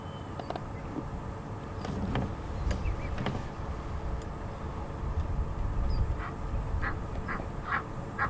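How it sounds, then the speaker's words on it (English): Egyptian geese call with agitated, repeated nasal quacks at a distance, faint over steady wind and rumble in the African bush at sunset. "That quack, quack, quack, quack, quack is the Egyptian geese you can hear calling"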